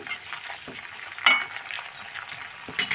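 Homemade hair oil heats over a low flame in a pan, giving a soft, continuous close sizzle with occasional brighter crackles and stirring scrapes, no voices.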